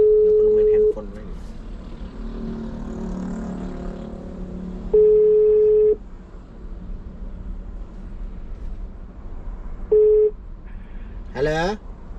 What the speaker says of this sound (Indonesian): Kita coba telepon.